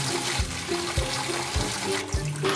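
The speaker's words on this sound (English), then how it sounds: "The water's gushing out!" A small electric pump on a toy water trailer pushes water out in a steady gushing trickle, with a faint motor whine and a few low knocks.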